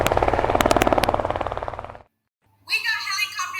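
Rhythmic, chopping helicopter rotor thumps from an audio drama sound effect for about two seconds, then an abrupt silence before a voice begins speaking.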